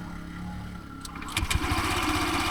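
A Honda Giorno Plus 125 scooter with its stock exhaust starts with a short starter whir and a few clicks, then settles into a steady, fairly quiet close-up idle.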